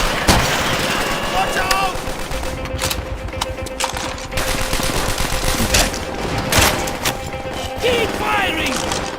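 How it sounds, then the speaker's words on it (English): Heavy battle gunfire from a video game, sustained bursts of machine-gun and rifle fire with rumbling blasts filling the scene, loud and near, while a voice shouts briefly over it. "Keep firing! Our friends below need cover!"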